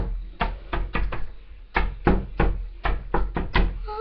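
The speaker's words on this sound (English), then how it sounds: "Knock one more time." Loud knocking on a door comes in quick, irregular clusters of sharp raps with brief pauses between groups, close and dry.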